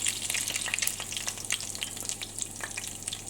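Chunks of food fry in oil in a pan, a continuous close sizzle with crackling pops and spatters scattered throughout.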